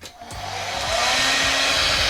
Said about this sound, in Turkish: Saç kurutma makinamız da burada çalışsın. Sesini de duyuyoruz